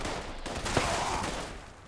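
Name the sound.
shotgun fire in the video game Fallout 76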